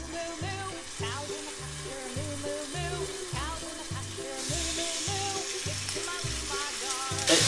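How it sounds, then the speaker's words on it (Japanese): Chicken pieces fry in a pan over moderate heat with a soft, steady sizzle that grows hissier partway through, partly buried under rhythmic background music. "火をつけて先に鶏肉を焼いていきます"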